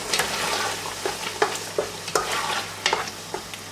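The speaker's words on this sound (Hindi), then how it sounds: "प्याज को अच्छे से फ्राई कर लेते हैं" Onions and green chillies sizzle and fry in a pan, with steady crackling and repeated stirring scrapes at an uneven rhythm, close and fairly quiet, with no talking.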